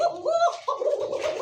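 A cock pigeon calls among pigeons kept for sale, close repeated throaty coos in short rising and falling phrases with a brief pause between them.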